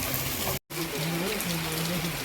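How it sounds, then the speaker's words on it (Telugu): Heavy rain falling steadily near a hilltop temple, a dense close hiss cut by a brief dropout, with a voice speaking over it. "ఇంటికి పోదామనే టైంలోనైతే వర్షం అయితే పడ్డది"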